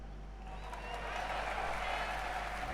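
Faint, distant applause from a crowd at a live gaming showcase event welcomes presenters. The clapping is soft and muffled, steady throughout, and sits beneath a low background hum.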